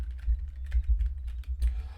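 Computer keyboard keys tapped in a quick, uneven run of close, crisp clicks while a prefab is nudged into place in Hytale's creative mode, with no talking.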